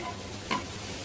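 A spoon stirs chicken biryani masala in a pot with onions, giving a single brief scrape against low background sizzling.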